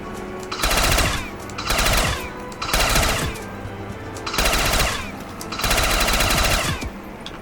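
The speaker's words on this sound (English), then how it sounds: "Let's try these shotgun catches again and see if I have any more luck than the first time I used them." Rapid bursts of gunfire in a zombies video game come in five dense volleys with short pauses between them, loud and close, and no one speaks.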